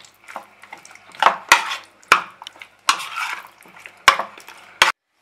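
Marinated chicken being mixed by hand in a bowl for a methi chicken curry, with close, irregular wet squelches and several sharp clinks against the bowl, then a short silence.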